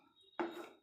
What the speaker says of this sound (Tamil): நம்ம இப்போ மூடி போட போகிறோம்.